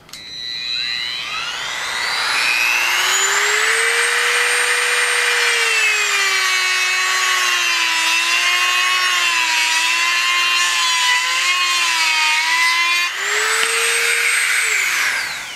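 A high-speed rotary power tool cuts a metal landing gear rod to length, a loud, close, sustained whine that climbs in pitch, holds with slight wavering, then dips briefly and rises again before stopping.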